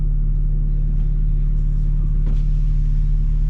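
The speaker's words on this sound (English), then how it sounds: "This exhaust is so freaking amazing." A BMW G80 M3 exhaust gives a steady, loud, low rumble from up close, with no clear rise in revs and faint noise above it.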